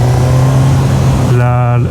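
Suzuki GSX-S motorcycle engine droning steadily as the rider pulls away, then its pitch shifts with a downshift near the end, heard up close and loud under someone talking.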